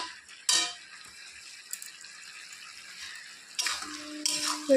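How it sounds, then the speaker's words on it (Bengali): A gourd cooking with a fish head is stirred in a pot, giving quiet scraping and a few sharp clanks of the spoon against metal over a soft, watery simmer. "আবার একটু নেড়ে চেড়ে দিচ্ছি"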